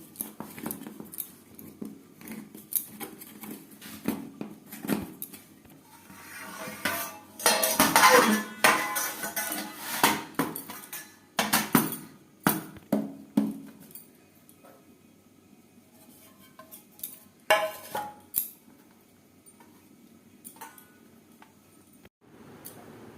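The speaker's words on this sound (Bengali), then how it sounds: "কেক পুরোপুরি ঠান্ডা হয়ে গেছে একটা ছুরির সাহায্যে চার সাইডটা ছাড়িয়ে নেবো" Knife scraping and tapping around the sides of a metal cake tin to free a cooled eggless palm-fruit cake, a series of irregular metallic scrapes and clinks with quieter pauses between them.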